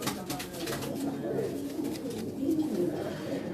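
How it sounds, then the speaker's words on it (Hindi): Tali pigeons coo in low, soft, repeated calls on a Faisalabad rooftop, with faint background noise and occasional voices. "देखिए, ये बालों से भरे हुए कबूतर हैं"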